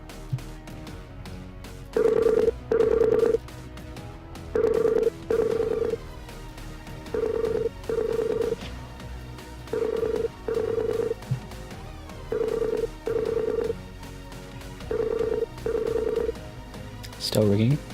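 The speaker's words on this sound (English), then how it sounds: "I'm about to call him now." A Skype outgoing call rings out in a podcast setting, a repeating pattern of paired electronic ring tones, loud and clear, with regular pauses between each pair over about eighteen seconds.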